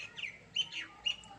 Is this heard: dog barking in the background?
no